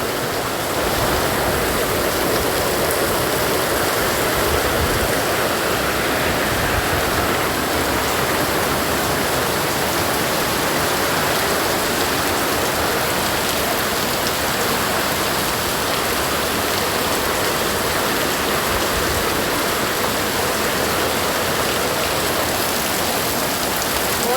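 Heavy rain pouring down in Bangkok, a loud, dense, unbroken roar of water that holds steady throughout with no voices.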